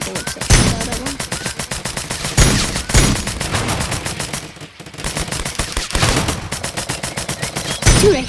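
Shotgun blasts in a video game fire in rapid repeated bursts, loud and dense, with continuous gunfire and game effects filling the scene while a voice talks over the action.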